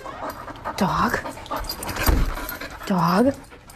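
A dog pants and whines in quick breathy bursts close by, mixed with short whimpering yelps, while people talk over it.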